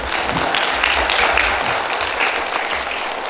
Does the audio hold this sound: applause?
yes